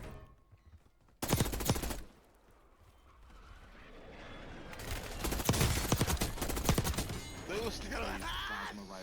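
Bursts of rapid gunfire in the video game Call of Duty Warzone, during a Rebirth match: one loud volley, then sustained heavy shooting layered with game effects and background noise.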